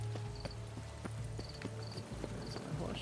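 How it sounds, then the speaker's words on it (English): Steady clip-clop of horse hooves trotting at a regular pace in the video game The Witcher 3, fairly close and moderately quiet, with no talking. "That's my horse."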